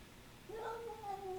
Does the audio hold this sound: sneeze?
no